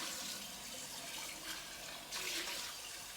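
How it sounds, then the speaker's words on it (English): Hot water poured out of a container while making DIY sunscreen, a steady broadband splashing stream running throughout at close range, swelling briefly near the end, with no talk. "I'm gonna take the hot water out."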